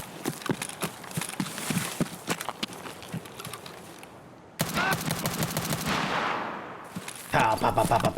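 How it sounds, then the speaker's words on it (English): Semi-auto SDM9 rifle gunfire in Escape From Tarkov, rapid bursts of repeated shots in a raid, loud and close, with a brief pause midway before firing resumes. "show a bit of gameplay of the new semi-auto rifle, the SDM9"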